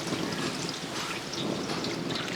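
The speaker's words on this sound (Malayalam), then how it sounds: "ഇതിനകത്തോട്ട് കുറച്ച് വെള്ളം കൂടെ ഒഴിച്ചു കൊടുക്കും" Water trickling and pouring into a pot of sambar vegetable pieces, a close, steady liquid splash lasting a couple of seconds with no talk.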